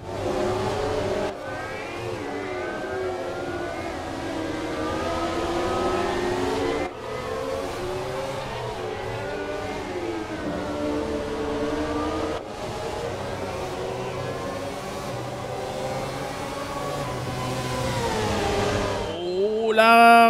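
Formula 1 race cars in the F1 2017 racing game roar continuously at high revs, engine pitch sweeping up and down through gear changes, loud and sustained with a brief dip and a sharp rev at the end.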